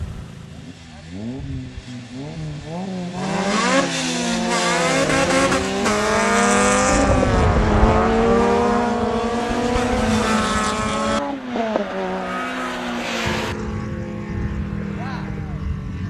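Street race cars launch hard off the line, engines rising through rapid gear-change sweeps, loud and close with some tire noise, while voices talk underneath.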